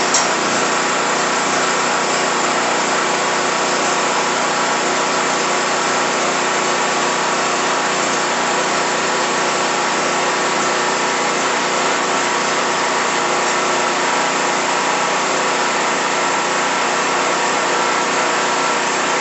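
Predator 4000-watt portable generator with a surging problem, its small engine running steadily and loudly throughout with a constant buzzing drone, no talk over it.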